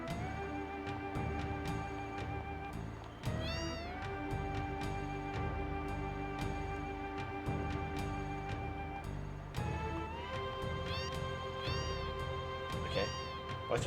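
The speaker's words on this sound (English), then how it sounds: "Why are there a bunch of cats here?" Cats meowing repeatedly in Final Fantasy VII, the cries rising over steady game background music at an even, moderate level.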